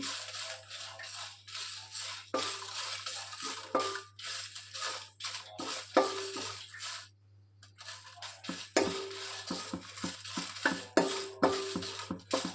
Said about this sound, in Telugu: ఈ మిరగాయలు కూడా బాగా వేయించుకోవాలి. ఇందులో ఎలాంటి ఆయిల్ అనేది అసలు యూజ్ చేయడం లేదు.